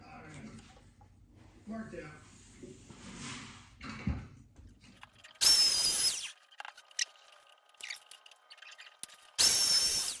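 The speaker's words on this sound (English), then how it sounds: "I'm going to route a channel down this because I'm going to embed a tape measure in the epoxy" A router cutting a channel into an epoxy workbench top gives two short, loud, high whining bursts near the middle and end, with someone talking quietly between them.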